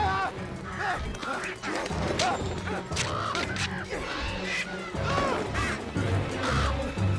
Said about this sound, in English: a flock of crows gathers above the house, as if summoned